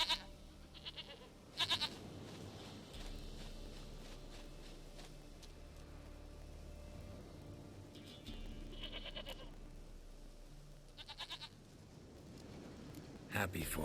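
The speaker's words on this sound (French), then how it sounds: "Goat of mine, dearest, sweetest goat." A goat in The Witcher 3 bleats in several short, distinct calls spread apart over a soft ambient bed, with speech in between.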